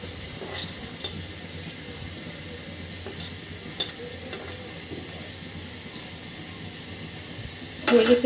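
Dried red chilies frying in a pan, a steady close sizzle with scattered light stirring clicks and a louder scrape of the pan near the end, no voices.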